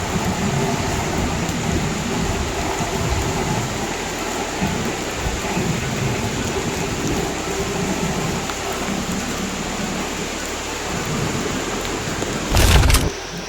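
Steady rain falls on the Sri Pada mountain trail in Sri Lanka, a dense even hiss with low rumbling underneath throughout, and a brief louder burst near the end.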